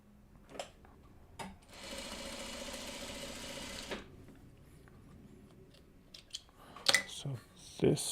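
A sewing machine stitches a Farmer's Wife Buckwheat quilt block in one quiet, steady run of about two seconds, with soft handling clicks before and after.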